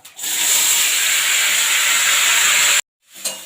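Washed greens dropped into hot oil with five-spice, cardamom and dried chilli make a loud, continuous hissing sizzle that cuts off abruptly, then briefly resumes.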